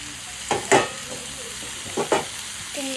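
Pumpkin frying in oil while being stirred, a low sizzle running underneath, with two pairs of quick scraping strokes close by and no talk.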